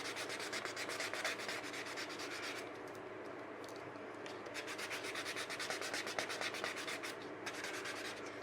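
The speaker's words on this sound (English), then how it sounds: "So this doesn't take me very long to sand this down." Steady, continuous sanding of an epoxy resin planter, a dense close-up rubbing scrape that holds level throughout with slight surges in pace and no talk.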